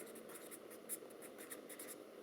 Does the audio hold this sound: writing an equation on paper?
yes